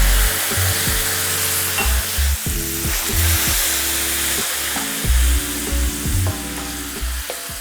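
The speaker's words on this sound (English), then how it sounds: "We'll put wine in." Wine poured into a very hot pan of browning sausage erupts into a loud, steady sizzle and hiss, with intermittent scraping and clanks of a utensil against the pan, close up and without talk.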